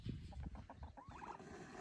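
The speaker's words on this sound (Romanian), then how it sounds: "Vezi găinile?" Chickens cluck on a farm, with turkeys also present, giving a short rhythmic series of soft clucks at a distance under steady outdoor background noise, quiet overall.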